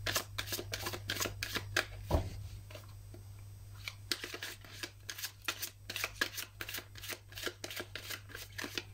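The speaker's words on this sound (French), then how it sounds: "Moi, je vais faire le tirage pour vos énergies actuelles." Tarot cards shuffled for a reading: a quick run of crisp riffling and flicking card sounds, close and fairly quiet, with a brief pause partway through and a steady low hum in the background.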